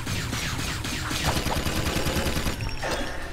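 Rapid gunfire from a weapon in the video game Jak II on PS4, loud bursts of repeated shots in fast succession, with no talk over them.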